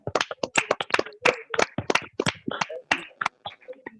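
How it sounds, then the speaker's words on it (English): Meeting attendees at a Toastmasters session clap for the speakers, a small group producing sharp, distinct handclaps in an uneven rhythm, fairly close and clear with quiet gaps between bursts. "put our hands together for all the speakers"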